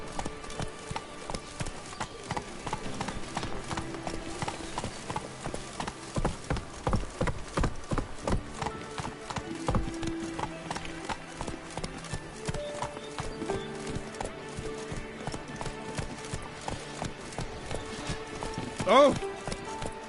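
Hooves clip-clop steadily as Geralt rides his horse Roach in The Witcher 3 video game, a continuous trotting rhythm with an occasional neigh, under game dialogue and background sounds.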